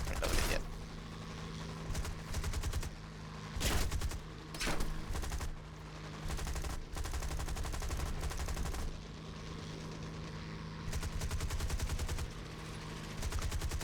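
Aircraft gunners in War Thunder fire machine guns in long rapid bursts of rattling fire that pause and resume, loud and mechanical, with clunky creaks between bursts and no talking.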